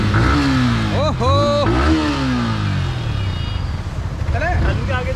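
A new Yamaha R15 V4 motorcycle, 2022 model, revs as it pulls out of a Noida showroom, its engine rising and falling in loud sweeps close by, with people talking over it.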